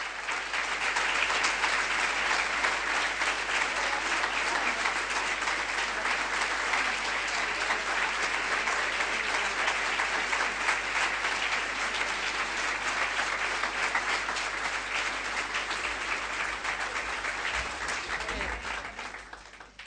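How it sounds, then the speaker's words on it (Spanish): A long, even burst of applause from an audience at a religious testimony talk, many hands clapping in a dense steady roar for nearly twenty seconds, with a low hum underneath, fading at the very end. "Estos aplausos son para Virgen María y para Dios"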